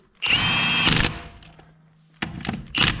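An impact wrench on a Chevrolet 1500 tightens a wheel nut with a loud, steady buzzing burst lasting under a second. A quiet pause follows, then a harder clunk and a second short burst.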